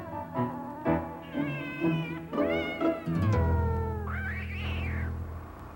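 A cat shut in a box growls and meows, with low rumbling growls building into drawn-out wavering yowls and a long howl, close and loud.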